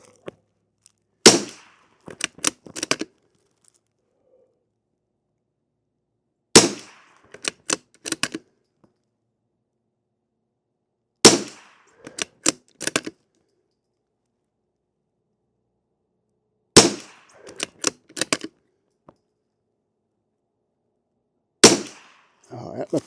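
A rimfire rifle firing CCI SV ammunition with a beef-tallow and beeswax lube lets off sharp, loud cracks in five separate groups, each a quick cluster of several shots with short silent pauses between groups.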